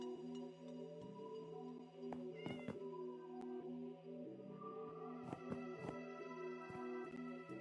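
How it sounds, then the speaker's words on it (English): A cat in the Minecraft Java Edition video game meows repeatedly, several distinct mews standing out over a steady tonal background of in-game music or ambience, with no talking. "Come here, kitty kitty."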